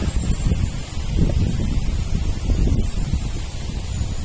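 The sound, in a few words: wind blowing outdoors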